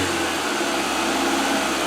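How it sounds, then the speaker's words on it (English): A rebuilt car engine idling slightly high after a repair, a steady, continuous hum running near and even with no talk over it. "It's idling a little high"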